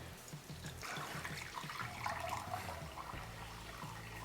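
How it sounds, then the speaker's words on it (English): Liquid is dumped out of the tank of a Ryobi 18V ONE+ 4-gallon backpack chemical sprayer, a close, continuous splashing pour with gurgling pulses, steady for several seconds without speech. "we'll go ahead and just dump out the liquid"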